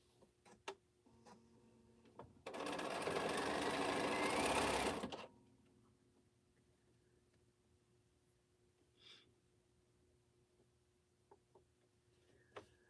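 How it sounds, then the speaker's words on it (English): Sewing machine stitching churn dash quilt blocks runs in one loud steady burst of about two and a half seconds, then stops, leaving a quiet room with scattered small clicks and taps. "I'm sewing what I want to sew"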